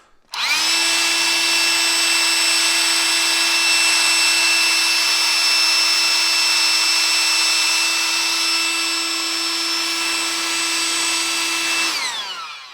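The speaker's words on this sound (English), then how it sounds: "Let me get my blower." An air blower drying a wet, rust-treated metal part, a loud continuous high-pitched whine that starts abruptly, holds steady for about twelve seconds, then winds down, close and with no talking.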